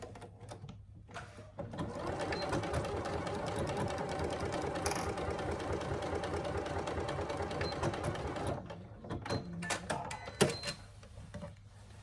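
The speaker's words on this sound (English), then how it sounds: "then you just stitch to join those two darts" A sewing machine runs steadily and close by for about six seconds, stitching to join two darts on a Scarlett Hobo bag made from a Sallie Tomato pattern. The run ends with a few light clicks and handling noises.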